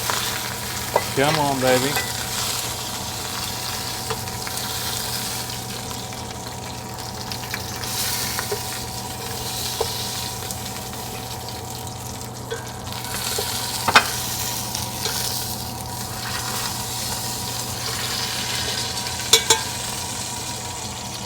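Lamb shanks sear in a hot pan, giving a loud, constant sizzle throughout with occasional sharper spits, while someone briefly speaks over it.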